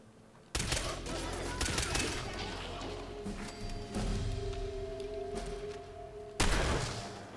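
Fallout 4 gunfire in survival mode, loud blasts opening a dense stretch of rapid rattling shots and thumping impacts, then another heavy burst near the end, with game background noise between.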